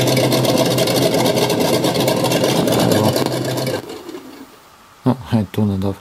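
Simulated engine sound from an ESS One Plus speaker, a loud steady synthetic motor drone with harmonic buzz revved by throttle for about four seconds, then cut off, followed by someone talking.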